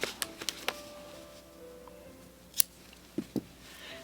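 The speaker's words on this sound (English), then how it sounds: "and then just cut your yarn" Scissors make a few quick, close snips while cutting yarn after crocheting a Tunisian-stitch scarf, followed by soft handling clicks in an otherwise quiet room.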